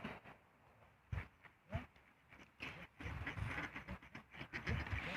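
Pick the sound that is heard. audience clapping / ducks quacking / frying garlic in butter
ducks quacking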